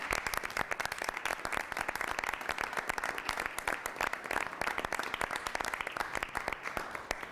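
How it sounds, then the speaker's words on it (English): Audience applause at a city council meeting, dense steady clapping from a crowd throughout, fairly quiet and even with no talking. "So I would ask you to join me in some applause for them."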